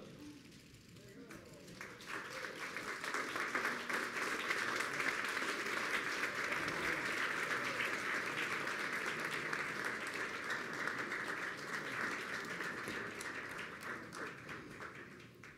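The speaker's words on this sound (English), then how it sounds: "one more round of applause" Steady, sustained applause from a crowd at a business incubator opening right after a ribbon cutting, swelling and holding for over ten seconds at moderate distance, with some murmured voices underneath.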